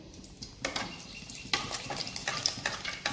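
Two dried red chillies frying in hot oil for an egg and potato curry, with a soft sizzle under sharp clattering bursts of a spoon stirring and scraping the pan, close and loud.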